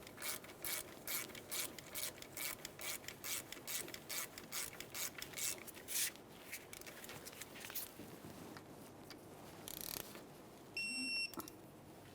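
A ratchet removes a lug nut from a 2002-2009 Chevrolet Trailblazer wheel, a fast run of close, even clicks for several seconds, then slower clicks, a clank and a brief electronic beep.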